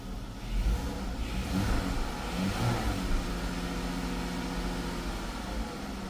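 A 2012 or later Chrysler 300 engine, faulting with multiple engine codes, turns over and revs, rising and falling in a steady mechanical roar close by, with no talking.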